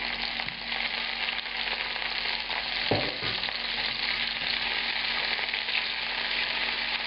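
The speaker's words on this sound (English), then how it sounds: "So now I'm going to add a generous amount of olive oil here. And those tomatoes, first thing that goes in" Tomatoes frying in a generous amount of hot olive oil in a pan at high heat, a steady, even sizzle close by with one brief knock partway through, no voices.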